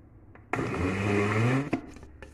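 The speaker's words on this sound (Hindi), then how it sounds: "इस तरह मैं चॉप कर लूँगी, हरी मिर्चें बिल्कुल इसमें पिस जाएंगी" Electric food chopper whirring through minced meat, coriander and green chillies, a loud close motor whine running about a second before cutting off, followed by a few small clattering knocks.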